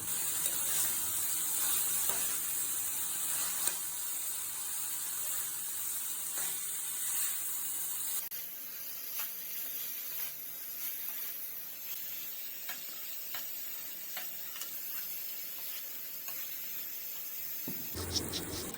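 Taro stolons fry in spice masala in a pan with no water added, giving a soft, continuous sizzle with occasional stirring taps, fairly quiet throughout.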